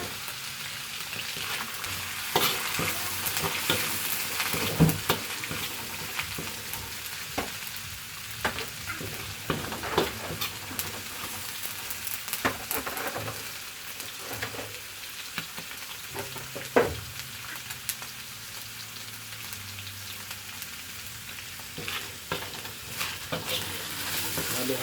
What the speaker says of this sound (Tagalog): Magigisa na tayo ng bawang sibuyas.